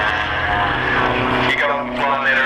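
Propeller aerobatic plane flying a display routine at the Matamata Airfield air spectacular, its engine drone rising and shifting pitch under a commentator's voice over the loudspeakers.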